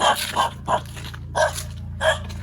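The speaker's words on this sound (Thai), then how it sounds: "มีหมาเห่าเราด้วยนะทุกคน" Two dogs bark several times in short bursts at nearby visitors in a garden, some yelping and higher-pitched, fairly close, with a low steady hum underneath.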